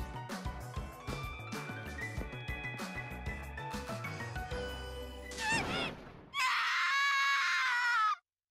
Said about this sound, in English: The scream? Was that Ubuki?